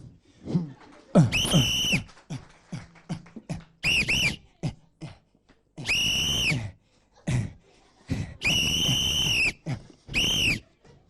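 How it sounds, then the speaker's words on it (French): Someone whistles in a series of shrill, piercing bursts, separated by gaps and scattered short noises, fairly loud and close. "Depuis 2 heures de siffle, tu peux t'arrêter."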